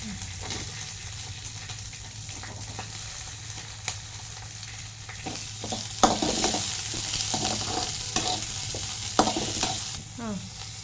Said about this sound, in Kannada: ಎಣ್ಣೆ ಕಾದೈತೆ. ಹಸಿಮೆಣಸಿನ್ಕಾಯಿ ಒಂದು 5-4 ಹಸಿಮೆಣಸಿನ್ಕಾಯಿ ಆಗೈತೆ. ಈರುಳ್ಳಿ ಹಾಕಿ,